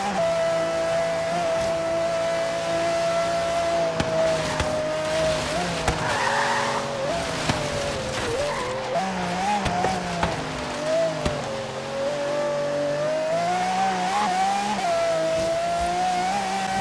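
A 2016 Aston Martin Vulcan racing in Forza Horizon 3, its loud engine holding a steady high whine that rises and dips through gear changes, with brief tire squeals and a voice speaking now and then underneath.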